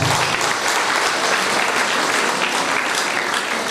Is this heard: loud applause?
yes